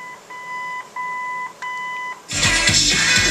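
A series of short electronic beeps from an original 1973-79 Ford truck AM/FM radio's controls, steady tones repeated in a broken rhythm, then a sudden burst of loud broadband noise takes over.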